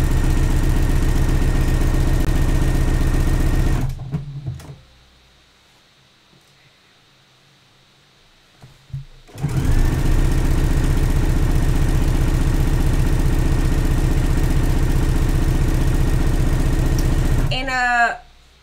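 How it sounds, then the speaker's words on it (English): A sewing machine top stitching a swimsuit hums loudly and steadily in two long, close runs, split by a quiet pause of several seconds. "I think I will do some top stitching."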